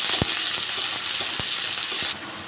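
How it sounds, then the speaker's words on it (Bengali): Onion frying in oil for a potato and katla fish curry gives a loud, continuous hiss of sizzling, with a few sharp knocks of stirring spaced through it. The sizzle softens slightly just before the end. "আমি এবার পেঁয়াজ দিয়ে দেবো। পেঁয়াজটা একটু ভেজে নেব।"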